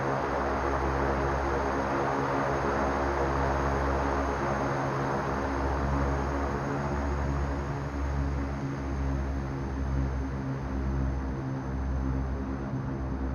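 Steady, loud drone of an AC690B twin turboprop with its engines in beta, from the X-Plane 11 flight simulator, heard as a continuous deep humming roar with strong low harmonics and no talk.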